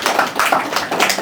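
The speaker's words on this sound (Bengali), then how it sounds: "ওর জন্য আবারও একটা হাততালি" A group of people applauds a student in a short, close burst of dense, uneven clapping that lasts about a second, with no talking.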